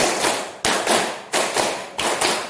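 A group claps in a counted rhythm, sets of four claps done twice, led by a teacher's count. The claps are sharp, close and fairly loud, falling in quick, slightly uneven clusters with no talking.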